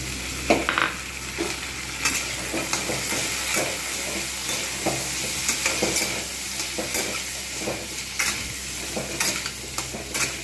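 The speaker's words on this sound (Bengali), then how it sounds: "এইবার আমি এর মধ্যে দিয়ে দেবো কুমড়োগুলো" Pumpkin pieces with soaked chickpeas fry in soybean oil, a continuous close sizzle broken by repeated scraping strokes of a spatula stirring the pan throughout.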